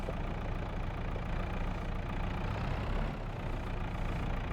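A JCB machine's engine idles steadily in Farming Simulator 25, a continuous low rumble holding at even loudness throughout with no talk over it.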